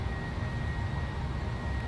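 Steady, loud drone of a simulated Boeing 737 engine idling in a flight simulator game, a constant broadband rumble with no breaks and no voices.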